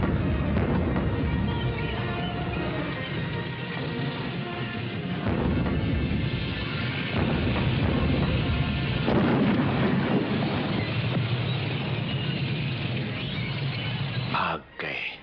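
Rumbling tank fire and heavy booms roll on steadily through a dramatized battle scene, dense and loud for the whole stretch, while people talk over the din.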